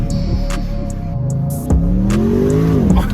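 Audi RS7 with 600 hp accelerating hard, heard from inside the cabin: a loud engine rising in pitch with a surge partway through, steady and continuous throughout.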